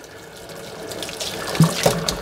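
Tap water runs steadily into a sink to rinse a paintbrush during cleaning, a soft, close rushing stream with a few splashy spikes and no talking.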